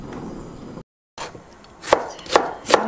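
Three sharp knife chops through an onion on a cutting board, evenly spaced near the end after a brief quiet gap, close and alone with no talking.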